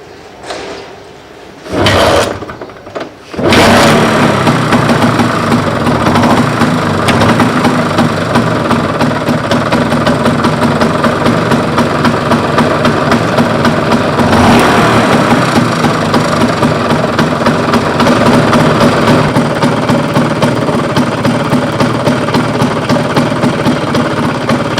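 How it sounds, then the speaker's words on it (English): A vintage 1964 Vespa VBB two-stroke scooter engine starts with choke after a couple of brief cranking bursts, then idles steadily and loudly up close with a buzzy, even rattle for about twenty seconds. "the beautiful sound of a two-stroke vintage Vespa"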